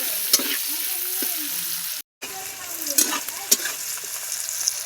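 Onion and capsicum fry in a pan with a little salt, a steady close sizzle broken by scraping stirs and small clinks, with a brief drop to silence midway.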